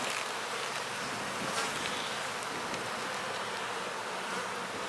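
Honey bees at an open hive colony in spring hum in a dense, steady buzz that fills the whole clip, close and even, with no talk.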